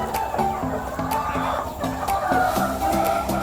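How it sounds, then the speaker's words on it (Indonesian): Kampung chickens on a farm cluck again and again in short, quick bursts at close range, several birds overlapping over a steady background hum. "Inilah ayam kampung unggul."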